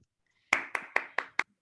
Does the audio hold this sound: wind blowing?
no